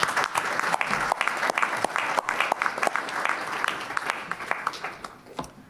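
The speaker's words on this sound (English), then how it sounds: "Let's give a round of applause." A round of applause at a university board of trustees meeting, a room of people clapping steadily with some distinct close claps before it tapers off.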